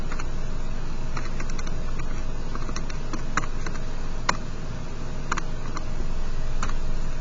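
Calculator keys are tapped to enter numbers in an area calculation, giving light, irregular clicks scattered over a steady background hiss.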